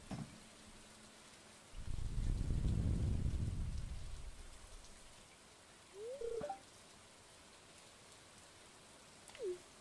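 Rain falling in the Stardew Valley Expanded farming game, a steady soft wash that swells loudly for a couple of seconds and then fades back to a faint patter, with brief small chimes near the end.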